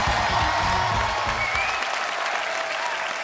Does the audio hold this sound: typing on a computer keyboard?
no